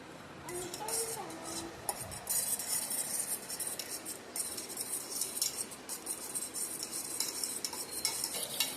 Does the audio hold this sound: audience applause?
no